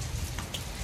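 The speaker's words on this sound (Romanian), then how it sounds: "Vedeți cum ploaia aici?" Rain falls steadily outdoors near a home, a soft continuous patter of drops on surfaces, fairly faint with no talking.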